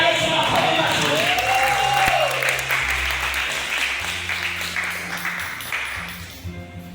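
A church congregation claps loudly during Sunday worship, dense applause that gradually fades, with a voice and sustained tones running underneath.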